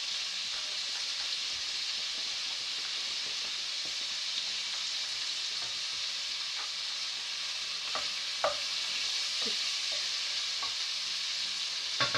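Red pepper frying in oil in a home kitchen pan for a Mediterranean stew, a steady soft sizzle with faint crackles and a few louder pops and stirring clicks near the end, no talking.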